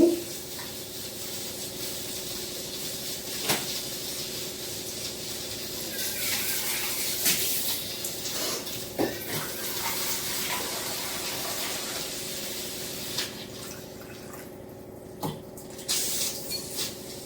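Water is poured and mixed into a tamarind mixture for a green horse gram rasam in a home kitchen. Faint splashing and stirring run under a low, steady background hiss, with a few soft knocks.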